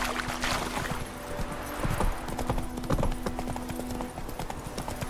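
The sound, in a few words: horse galloping in The Witcher 3 video game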